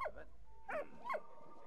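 A dog barks in the World War I video game Valiant Hearts, two or three short yips spaced apart, fairly faint over a low steady game background.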